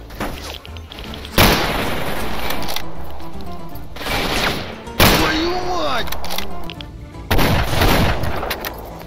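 Mosin bolt-action rifle fired in the video game Stalker Old World, three sharp, loud gunshot blasts spaced a few seconds apart, each with a decaying echo tail, amid game ambience.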